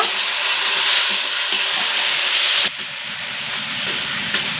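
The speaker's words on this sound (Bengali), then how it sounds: "লবণটা দিয়ে আর একটু নাড়াচাড়া করে নেব" Spices frying with salt in a pan make a loud, steady hiss of sizzling and steam, with a brief dip midway and a few faint stirring scrapes.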